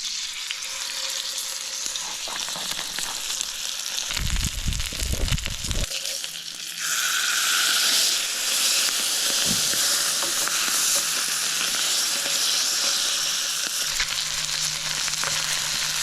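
Trout sizzles loudly in a pan at a solo riverside campsite, a steady close hiss with bursts of louder spitting and crackling as the fish is moved, then a brighter, fuller fry that continues without any talk.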